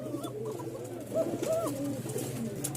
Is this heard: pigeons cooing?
yes